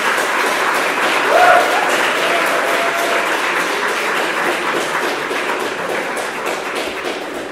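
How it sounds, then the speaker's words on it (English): An audience at a talk on millennial socialism and the new working class applauds, a steady wash of many hands clapping at moderate loudness, continuous throughout with a brief louder bump early on. "Thank you for the applause."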